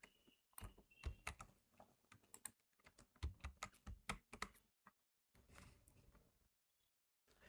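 Quiet, steady typing on a computer keyboard while writing Python code, irregular bursts of close key clicks with brief pauses between, no voices.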